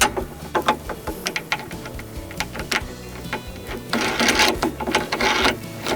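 A bolt is tightened through the handlebar bracket of an RM51SP80V machine, heard close up as quick irregular clicks, rattles and metallic ratcheting taps that grow busier toward the end.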